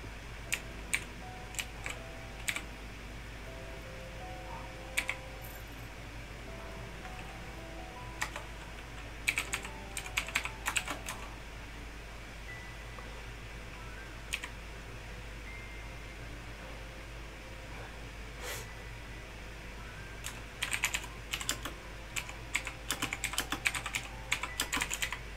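Close, clicky typing on a computer keyboard while playing Shroud of the Avatar, with irregular bursts of keystrokes over a steady low hum and faint hiss, denser flurries near the middle and end.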